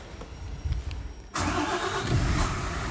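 A large MAN truck engine cranks and catches at about 1.3 seconds, settling into a loud steady idle that drives a 24v-to-48v 3000W alternator charging lithium batteries; quiet ambient noise comes before it.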